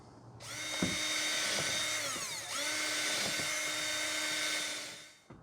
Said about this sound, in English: Now I'm going to go ahead and drill holes here at the bottom of the box